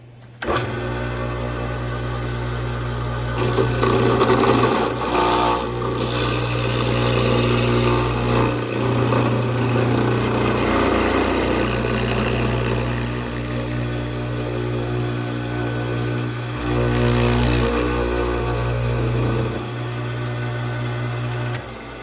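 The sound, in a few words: router with flush cut bit trimming edges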